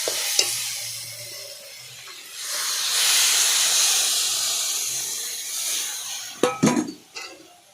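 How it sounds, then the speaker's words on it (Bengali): Water poured over fried bottle gourd and potatoes in a pan on an earthen stove hisses into a loud, broad steamy sizzle that swells and fades, followed by a few sharp clattering utensil knocks near the end. "লাউ আর আলুটা এবার জল দেব"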